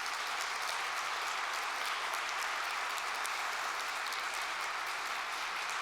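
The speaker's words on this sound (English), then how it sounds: "Please give a round of applause for Yoshua Bengio." An audience applauds at the close of a keynote talk by Yoshua Bengio at a Brussels conference, producing a dense, steady wash of clapping that holds at an even level for several seconds.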